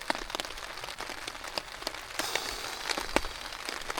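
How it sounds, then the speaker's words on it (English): Torrential rain pours down at a campsite, a dense patter of drops with sharp louder splats scattered throughout, close and continuous with no voices. "Have you heard that rain coming down? It's absolutely mental."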